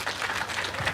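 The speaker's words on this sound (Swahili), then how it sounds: "tumpigie makofi" A crowd claps at a public address at Ruiru Club, giving a dense, steady burst of applause that fills the whole short moment.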